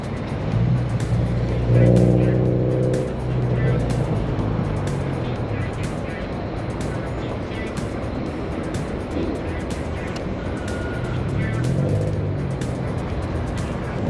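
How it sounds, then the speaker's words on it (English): Busy road traffic near the Thames, with vehicles passing steadily and a broad engine rumble swelling as nearer cars go by, heard without speech as a continuous moderate wash. "And that is currently how busy the roads are around here."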